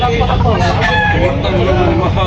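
Roosters and chickens crow and cluck amid a busy, noisy crowd at a rooster event in Tabunok, Talisay, Cebu, with voices murmuring in the background.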